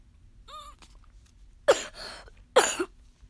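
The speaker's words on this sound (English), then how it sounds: "I'm making weird sounds because I'm trying to stop my coughs" Two sharp, muffled coughs come close together as someone tries to hold them back, after a brief strained vocal sound, in a quiet room.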